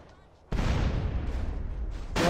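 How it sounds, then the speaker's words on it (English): Fireworks exploding in GTA San Andreas Definitive Edition: a sudden loud blast opens a dense, rumbling crackle that sustains for well over a second, with a faint noise before it. "We're gonna see more fireworks."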